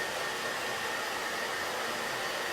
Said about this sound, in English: give this a quick little blow dry so I can move a little faster